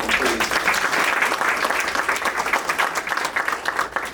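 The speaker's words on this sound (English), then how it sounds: "Another round of applause for Brockton" An audience claps in sustained applause at a health center clinic opening in Brockton, a steady, dense crowd of hands filling the room without a break.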